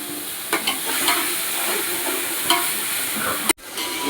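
About 200 grams of garlic paste fries in a pan for chicken dum biryani, giving a steady, close sizzle with a few sharp stirring scrapes and one brief dropout near the end.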